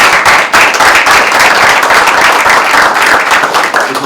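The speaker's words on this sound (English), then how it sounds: "Can y'all clap for him real quick?" An audience at a school board meeting applauds a student being brought up, dense continuous clapping that stays loud and steady throughout.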